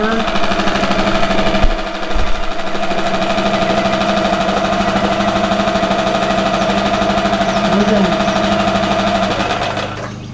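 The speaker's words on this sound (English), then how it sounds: "It's a good old running motor." A Yamaha 6 hp outboard motor runs steadily at idle, a loud, continuous mechanical chatter with fast rhythmic ticking throughout, a brief knock near the start, and speech faintly under it.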